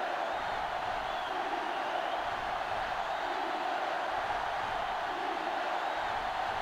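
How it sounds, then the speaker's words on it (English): Stadium crowd in NCAA Football 2005 roaring steadily, a dense, distant-sounding wash of cheering held at an even level throughout, with no clear talk over it. "And this crowd is going crazy."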